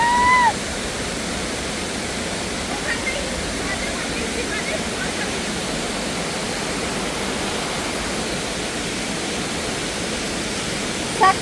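A forest waterfall in the Dooars jungle rushes in a steady, dense roar that fills the whole stretch, with faint brief sounds at the start and end.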